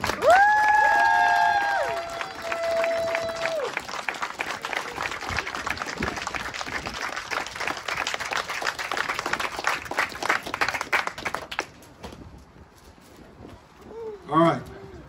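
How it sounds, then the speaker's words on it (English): A room of people applauds and cheers for the Cedar Band Travel Plaza team members at a grand opening, sustained clapping with a whistle-like tone early on, then fading out near the end as a voice returns. "please join me in a raucous round of applause for our Cedar Band Travel Plaza team members"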